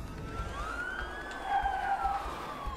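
Police siren wailing in the video game A Way Out, a rising and falling electronic tone heard from a distance across a hospital setting, with steady low rumble beneath and no speech.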